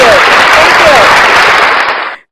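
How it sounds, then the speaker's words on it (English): A canned hand clap effect fired from a podcast soundboard plays as a loud, dense burst of crowd clapping filling the whole stretch, then cuts off sharply at the end. "Hit the hand clap button"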